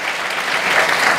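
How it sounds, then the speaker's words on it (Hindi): A short burst of dense audience applause at a NEET coaching event, continuous and fairly loud clapping. "तालियां बजती रहनी चाहिए"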